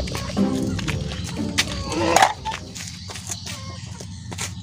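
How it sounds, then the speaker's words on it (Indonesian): Chickens cluck and squawk close by in several short bursts, mixed with rustling and background voices. "Itu ayam."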